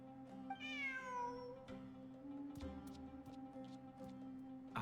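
A single clear, rising-falling meow from a kitty in Genshin Impact over a soft game music bed, followed by light tinkling sounds.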